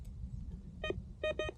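A handheld metal detector sounds short electronic beeps as it passes over metal by a stream while magnet fishing: one beep, a pause, then two quick beeps close together, over a low rumble of outdoor background noise.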